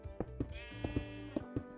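Sheep in Minecraft give a quick run of short, clipped bleats, about six of them in uneven pairs, clear and close against a quiet background.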